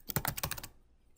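Quick burst of keystrokes on a computer keyboard while entering text in CS7 embroidery design software, about eight close, crisp clicks in rapid succession that stop abruptly and leave near silence.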